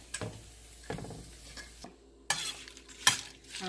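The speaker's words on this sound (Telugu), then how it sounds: "అలాగే పచ్చిమిరపకాయలకి జీలకర్ర వెల్లుల్లిపాయలు వేసుకుని ఇలాగే వేపుకోవాలి" Green chillies with cumin and garlic fry in a pan for coconut chutney, giving a soft sizzle with several sharp clinks and scrapes of a spoon stirring against the pan, close and sporadic.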